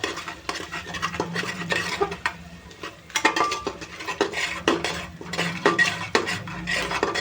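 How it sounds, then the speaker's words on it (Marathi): A spoon scrapes and clanks against a pot while onion, tomato and black masala are stirred with village chicken, irregular metallic strokes and rasps repeating close by with no talking. "मस्तपैकी आता हलवून घेऊ"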